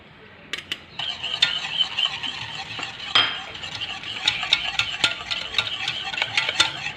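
Eggs whisked with sugar in a bowl, a quick run of close clinking taps that settles into a steady, fairly loud rhythmic whisk against the bowl sides with frequent sharp ticks.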